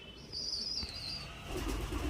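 Highflyer Giribaz and Madrasi pigeons in a loft, giving soft cooing and rustling sounds under steady background noise, with a brief whistling tone early on and a low throbbing coo toward the end.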